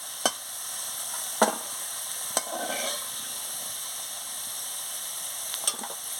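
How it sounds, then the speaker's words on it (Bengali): Black cumin (nigella) seeds and chopped onion hitting hot oil in a pan, left from frying potatoes, give a steady soft sizzle with a few sharp crackles and pops scattered through it. "এবারে আমি কালো জিরেটা দিয়ে দিচ্ছি, পেঁয়াজ কুচি দিয়ে দিচ্ছি।"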